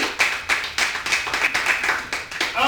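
An audience at a live improv comedy show claps in short, rhythmic bursts, a small group applauding close by with no voices.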